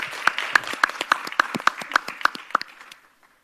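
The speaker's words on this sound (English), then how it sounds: "We can clap hands for her as well." About ten distinct, evenly spaced claps ring out at a steady rhythm at a conference session, fairly close and sharp, then stop, leaving near silence.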